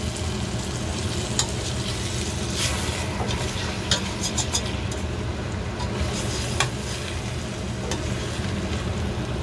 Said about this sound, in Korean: 기름에 고기를 이렇게 많이 튀겨준 다음에